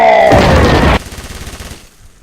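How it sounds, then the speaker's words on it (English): A laser weapon fires in a video game with a loud, dense burst of rapid shots lasting about a second, then a quieter rhythmic pulsing tail that fades out. "I'm a firing my laser!"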